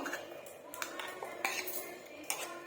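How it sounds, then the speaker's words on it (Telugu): Close clinks and scrapes of a spoon against a metal bowl, several sharp taps spread unevenly over a couple of seconds while ground tomato chutney is spooned out. "ఇప్పుడు మనం మిక్సీ పట్టుకున్న టమాటా చట్నీని అయితే ఒక గిన్నెలో సర్వ్ చేసుకుందాము"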